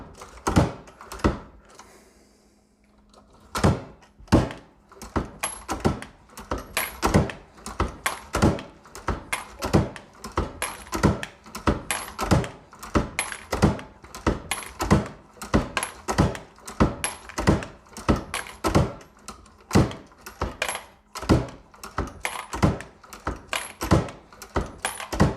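A Lee APP Press with its universal case feeder and collator feeds cases in a fast repeating run of sharp mechanical clacks and thunks, close and loud, after a brief quieter pause near the start.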